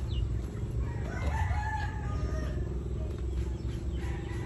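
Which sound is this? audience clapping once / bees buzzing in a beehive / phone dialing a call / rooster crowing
rooster crowing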